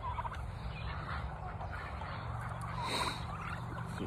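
Several turkeys gobbling in rapid bursts on a farmyard amid a steady low hum and background noise, moderately distant and fairly faint.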